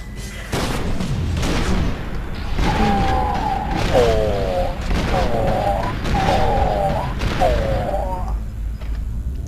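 Electric grenades detonate amid gunfire in the first-person shooter F.E.A.R. 2, a string of booming blasts and crackling bursts repeating every second or so, each trailed by a warbling electronic whine.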